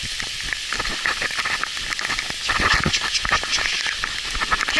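Steady heavy rain hisses and patters densely, a continuous wash of drops growing slightly louder toward the end, with no voices.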